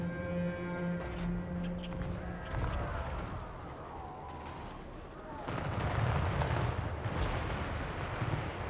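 Artillery fire booms through a Total War: Warhammer 3 battle, repeated heavy thuds and rumbling impacts layered with game music and battle noise, sustained and dense.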